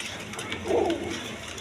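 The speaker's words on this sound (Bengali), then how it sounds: "দর্শকবিন্দু এইখানে এক পেয়ার শার্টিং কবুতর আছে, ব্ল্যাকলেস শার্টিং কবুতর দেখেন" A single short, soft coo from one of a breeding pair of blackless shorting pigeons, rising briefly out of quiet background noise.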